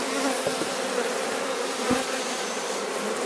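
Honey bees buzz around an open hive, a dense close drone of many wings with a few brief knocks.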